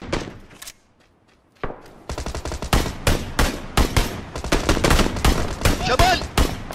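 Rapid automatic gunfire from video game weapons rattles in dense bursts after a brief lull, loud and close, with a streamer reacting around it.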